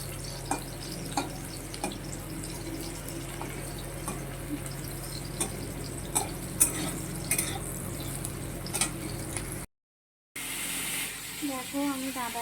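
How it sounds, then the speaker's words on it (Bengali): Ivy gourd fries in a pan in a home kitchen and is turned now and then. A low, steady sizzle runs under scattered scraping taps from the spatula, and the sound cuts out briefly before a softer tail. "দেখো কুঁদরিটা প্রথমে উল্টো করে নিয়েছি, ভেজে নিচ্ছি"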